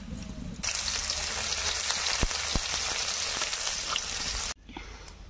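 Chopped onion and dried chili drop into hot oil in a wok and set off a sudden loud, steady sizzle that crackles close by for several seconds, then cuts off abruptly.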